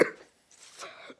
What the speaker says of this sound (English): That was a big cough.